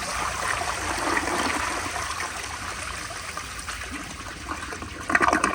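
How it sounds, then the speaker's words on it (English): A 1965 Kohler Barlow toilet on a flushometer flushes with a steady rushing, gurgling torrent of water that runs throughout, close and loud, ending with a brief hiss and clunk of the valve. "I'm gonna flush it twice."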